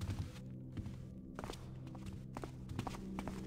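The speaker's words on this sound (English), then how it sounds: "Listen for footsteps." Footsteps in the stealth video game Thief, a series of soft thuds and scuffs over a low droning ambient hum, heard without talk.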